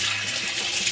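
Water is poured into a pan of frying marinated beef for a Kashmiri qorma, giving a steady, loud hiss and splash that runs throughout without a break.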